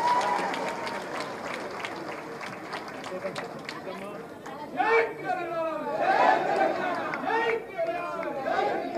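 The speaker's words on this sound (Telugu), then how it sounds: "గట్టిగా చప్పట్లు కొట్టారు అందరూ" A crowd at a public gathering claps loudly, a sustained patter of applause with voices talking and calling out over it.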